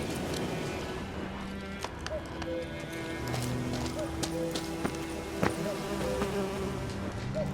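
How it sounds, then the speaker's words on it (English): Bees buzz around a beehive in The Witcher 3: Wild Hunt, a steady insect drone heard alongside horse hoof clip-clops on a forest path and light ambient game sounds. "We got another beehive."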